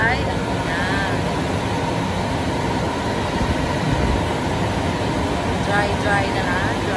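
A steady, loud air dryer blows over a Lexus LS460 after a wash, a constant broadband roar with faint speech underneath.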